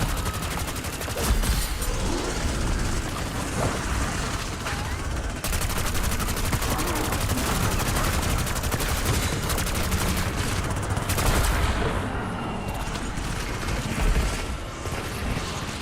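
Dense, continuous gunfire from a Call of Duty Zombies match, with rapid automatic bursts at steady loudness throughout and a little game noise mixed in.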